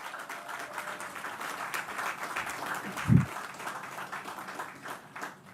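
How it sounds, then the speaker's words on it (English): An audience claps for the students of a learning center at an official opening and ribbon-cutting ceremony, a moderate, steady applause with a brief low thump partway through. "Please give them a round of applause"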